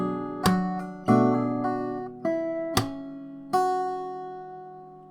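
One bar of the Naruto Shippuden theme, played fingerstyle on an acoustic guitar, with several struck chords and percussive slaps ringing out in a steady rhythm, close and clear with no voice.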